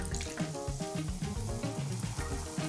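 Jumbo cola pours fizzing into a purple glass, a continuous bubbly crackle and splash of carbonated soda close up, filling the short stretch without any voices.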